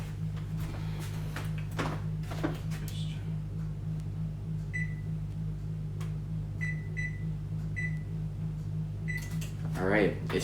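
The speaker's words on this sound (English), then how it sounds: "preheat the oven to 350 degrees Fahrenheit. So that's what I'm gonna do right now" A kitchen oven is being set to preheat to 350 degrees Fahrenheit, giving several short, high keypad beeps at irregular intervals. Faint handling clatter surrounds the beeps, with a brief voice sound at the end.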